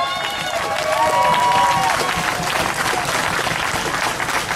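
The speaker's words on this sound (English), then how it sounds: "Everybody, big, big round of applause for Cameron." Loud rally crowd at a housing justice protest applauding and cheering for a hunger striker, dense clapping with whoops and shouts filling the whole stretch close up.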